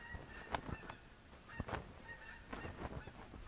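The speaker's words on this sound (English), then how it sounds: "Oh, another flock flying overhead." A flock of geese passing overhead in a hunting game, honking in scattered overlapping calls, several sharp honks standing out from a steady chorus at moderate distance with no talk.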